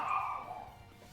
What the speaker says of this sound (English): I can hear them. They're barking!